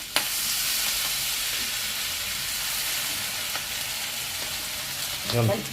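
A flour and water mixture is stirred into a pan of chicken and mushrooms, giving a steady, close sizzle throughout with a few light scrapes and a short clatter of stirring near the end.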